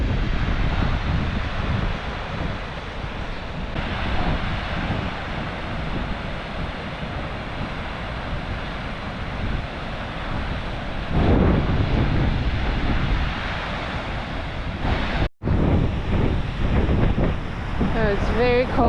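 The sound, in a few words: cold strong wind atop Salto del Agrio waterfall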